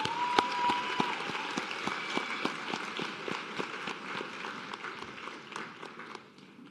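A crowd applauds steadily for a group of students at a nursing school white coat ceremony, dense clapping filling a hall and slowly tapering off toward the end.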